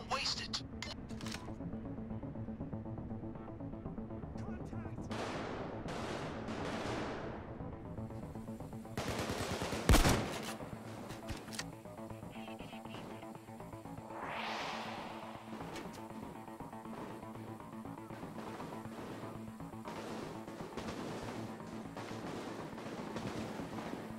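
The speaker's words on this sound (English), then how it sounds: "So by the amount of gunfire, it sounds like things are going well." Sustained automatic gunfire from a heist shootout in the video game Payday, with dense rapid bursts and cracks throughout, a sharp loud blast near the middle, and game voices speaking over the continuous firing.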